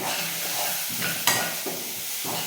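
Spices roasting in a covered pan, a close, even sizzle and hiss with a few spatula scrapes and one sharp clink partway through.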